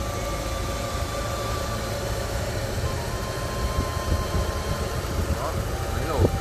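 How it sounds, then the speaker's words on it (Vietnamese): A 2009 Daewoo Lacetti with a 1.5 litre petrol engine and manual gearbox idles smoothly with its bonnet open, a low steady hum heard up close alongside faint broadband noise. "Máy nổ cực chất luôn các bác."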